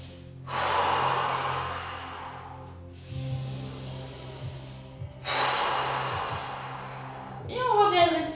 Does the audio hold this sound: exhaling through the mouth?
yes